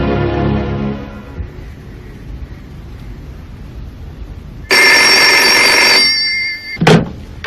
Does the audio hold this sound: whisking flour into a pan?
no